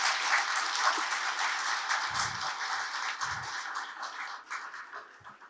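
Applause from a university audience at a Republic Day of Türkiye event in Karachi, steady dense clapping that holds for several seconds before thinning and fading toward the end.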